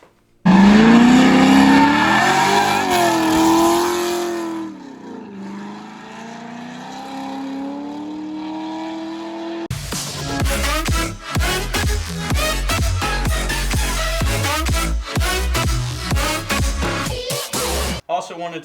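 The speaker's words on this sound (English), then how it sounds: "this is my 2004 Z06 Corvette, and we're going to be shit whipping a nasty 360 in this car" A 2004 Corvette Z06 spins through a 360 drift, its engine rising and falling in pitch with revving before the sound cuts to a loud, choppy stretch of rapid bursts.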